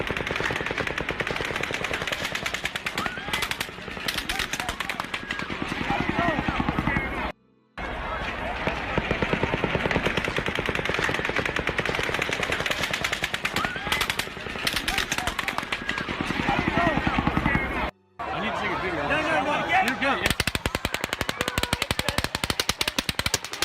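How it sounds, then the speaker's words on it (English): Long bursts of rapid automatic gunfire during a mass shooting at an outdoor event in Las Vegas, loud and continuous with brief pauses between volleys, shouting voices mixed underneath. "Two different shots being fired."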